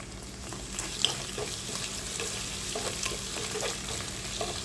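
Onion sautéing with ginger garlic paste and curry leaves in a pan for vegetable biryani, a soft steady sizzle with intermittent stirring scrapes and taps, fairly quiet, no talking.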